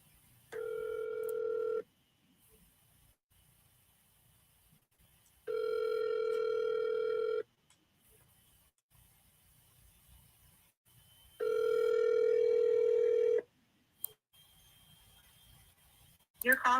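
An outgoing telephone call rings on the line, three long, evenly spaced ringing tones with quiet gaps between them.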